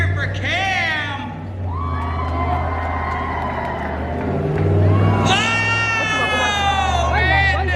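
Cheering crowd at a monster truck show in Rutland, Vermont, with high whoops and shrill shouts, children among them, rising in two bursts over a low rumble of engines, a loud announcer's voice mixed in.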